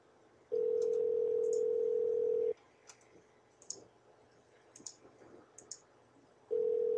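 A Skype call rings out as a steady electronic tone in two long bursts separated by a quiet gap that holds a few faint clicks and rustles.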